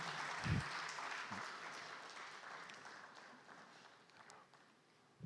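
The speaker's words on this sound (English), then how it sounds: "Can you give them a round of applause just to motivate them" Audience applause at a 2025 Africa agriculture dialogue session, a soft, steady wash of many hands clapping in a large hall that slowly fades, with a few brief voices under it.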